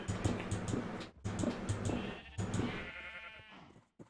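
Sheep bleat repeatedly in the block-building game Agrarian Skies, several close calls arriving in quick bursts with brief pauses between them, loud and without any voice over them.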